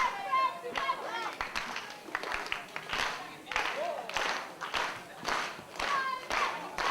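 Wrestling crowd at a singles match clapping in rhythm to rally behind Tony 'Superstar' Sefton, a series of sharp, evenly spaced claps under a commentator's voice, moderately loud and echoing in the hall.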